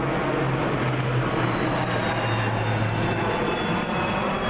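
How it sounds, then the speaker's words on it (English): An airplane passes over an old graveyard in Birmingham, a steady broad engine roar filling the scene loudly and continuously with no talk over it. "the plane flying over right now"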